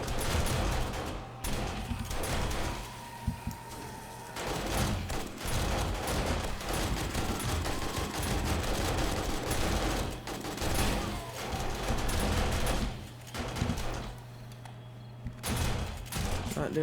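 Automated turrets in the survival game 7 Days to Die firing in dense, sustained bursts of gunfire, loud and continuous across the whole stretch, with brief lulls and mechanical clatter mixed in.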